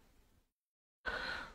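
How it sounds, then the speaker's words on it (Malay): A single audible inhalation before Quran recitation: faint room noise, a brief silence, then one sharp, close breath drawn in and tapering off. "Jom tarik nafas,"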